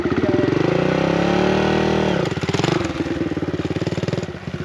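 A dirt bike engine revs hard and close for about two seconds, its pitch climbing, then drops into a choppy, pulsing idle-like putter as the throttle eases.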